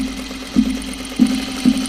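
A home sewing machine stitches lightweight shirtdress fabric, running with a steady close mechanical hum and three distinct louder clunks spaced about half a second apart, with no talking.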